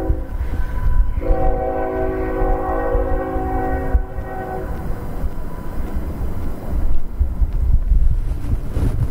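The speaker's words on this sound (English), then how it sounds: "You can hear the train going by." A train rumbles past north of Pilot Point, Texas, with a loud horn blast early on, its steady roar mixing with gusty wind against the microphone.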